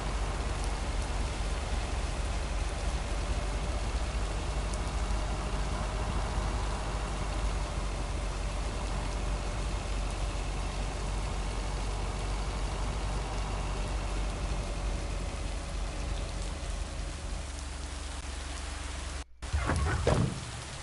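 Steady rain falls in the video game Lake, a dense, continuous hiss that fills the whole stretch, with a faint low tonal hum underneath and a brief dropout near the end.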